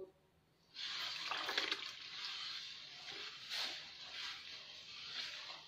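Water pours steadily into a bowl of bread dough for kesra-style butter bread, starting abruptly after a moment of quiet and running as a close, continuous splashing stream with slight surges.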